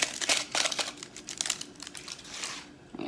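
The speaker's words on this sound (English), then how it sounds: "Use our little saw blade, because this is like what real archaeology is. Just kind of cut into the plastic a little bit." A small saw blade scrapes and cuts into the plastic of an emerald dig kit in quick, close, crackly rasping strokes, irregular and fairly quiet.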